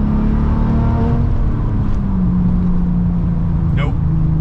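Porsche 996 Turbo accelerating hard in fourth gear, a steady loud engine drone rising slowly in pitch throughout, heard from inside the car.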